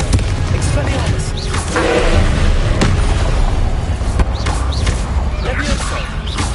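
Confringo blasting spell cast in the Hogwarts Legacy video game: a series of loud booming bursts and crashing impacts over a dense, roaring backdrop, with a voice occasionally audible.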